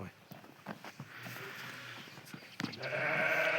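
A flock of sheep and young lambs bleats while being herded, several overlapping calls rising toward the end amid footsteps and shuffling, with someone speaking briefly.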